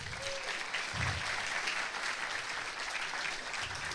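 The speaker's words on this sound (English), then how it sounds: "Some applause, come on guys, come on." Audience applause fills a conference hall at a Ruby talk, steady and broad for the full stretch, with no one speaking over it.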